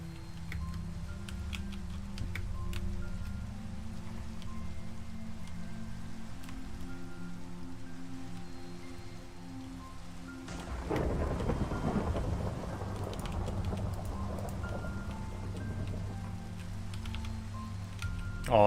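Rain and a thunderstorm in the Minecraft video game form a steady hiss with low rumbling. About halfway through a sharper thunder crack breaks out, and a rolling wash of rain and thunder follows.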